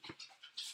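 A dog's short panting breaths and a quick whimper, close by, in a brief burst under a second long.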